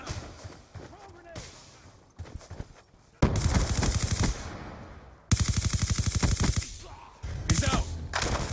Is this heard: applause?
no